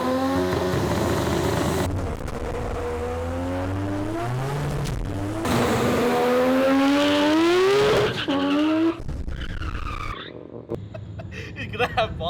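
A car engine revs hard and launches at a drag strip on old tires, pitch climbing through a quick no-clutch flat shift from first to second, with tire noise and faint voices nearby.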